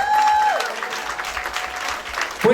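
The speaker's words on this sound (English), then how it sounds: "Big round of applause to Shakti Arts." Applause from a crowd at an outdoor Diwali lights switch-on in Derby after a dance performance, a steady dense clapping wash with a sustained tone fading early and a brief sound near the end.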